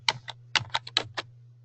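Fingers tap out a short, irregular run of about seven crisp keystrokes on a computer keyboard at a work desk, close by and clear over a faint steady electrical hum.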